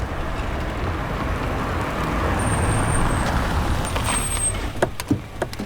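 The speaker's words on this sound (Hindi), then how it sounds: "ए श्रीधर, गाड़ी साइड में रोको।" A car pulls over and stops at the roadside amid steady traffic rumble, with a faint high whine and a few sharp knocks at the end, with no talking.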